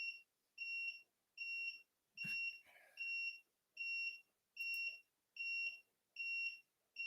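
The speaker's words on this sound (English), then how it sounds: "You hear that beeping? The battery's dying." A high electronic low-battery chirp-beep repeats at a steady rhythm, about once every half second, with a brief knock or thump midway through.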